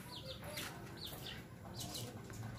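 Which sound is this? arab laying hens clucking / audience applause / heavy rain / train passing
arab laying hens clucking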